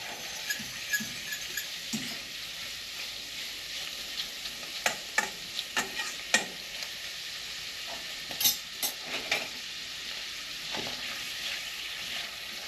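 Lobster meat being stirred in a paprika and butter mixture in a pan for a seafood casserole, a low sizzle broken by irregular scraping clicks and knocks of the utensil, close and fairly quiet.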